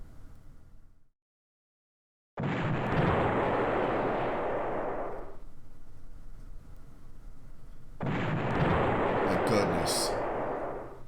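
Artillery opportunity fire in the Steel Panthers war game, two long loud booming bursts that roll on for a few seconds each, the first following a moment of silence.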